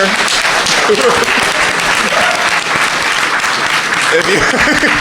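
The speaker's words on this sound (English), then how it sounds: "give applause to yourself for being here" Audience applause fills the end of a panel at the MAGFest convention: steady, loud crowd clapping that holds for the whole stretch, with a few voices mixed in.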